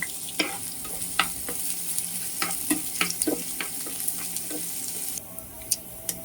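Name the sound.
onions frying in hot oil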